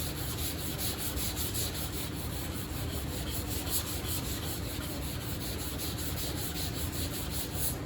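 Sandpaper is rubbed by hand across a repainted car hood in steady, continuous back-and-forth strokes, a close, even abrasive hiss with no talking.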